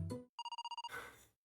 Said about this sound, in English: What a boring ringtone.